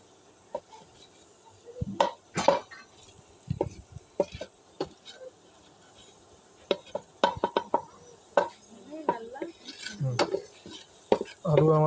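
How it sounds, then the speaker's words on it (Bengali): Potatoes being stirred in a cooking pan for garlic mash, heard as sporadic, close metallic scrapes and clinks of a utensil against the pan, separated by quiet gaps, with a faint sizzle underneath. "নাড়তে থাকুন।"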